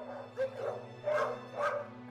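Dogs at an animal shelter give a few short barks and yips over a steady background hum, close but not loud, and no one speaks.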